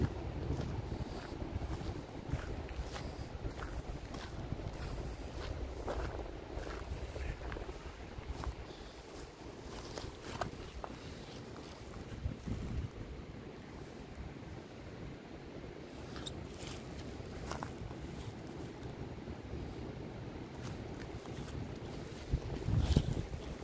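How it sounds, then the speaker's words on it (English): Steady wind on a waterfall mountain trail in the Catskills, a constant rushing buffet with gusty swells and microphone rumble that continues throughout. "there is a consistent, wind going, and it's been picking up quite a bit"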